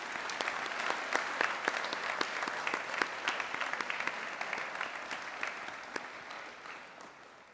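Audience applause fills a launch night for a university motorsport team, steady dense clapping throughout with sharp individual claps standing out, then gradually thinning toward the end.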